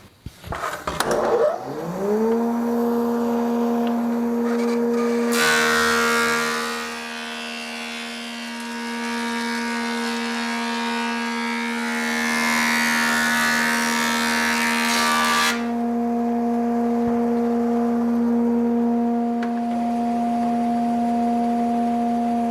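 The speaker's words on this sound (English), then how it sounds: "dusty but trusty old Watkins thickness planer left from my woodworking days" Old Watkins thickness planer starts up with a rising whine into a steady loud hum, then a long rough roar as a piece of Kiaat wood feeds through, before settling back to the idling motor drone.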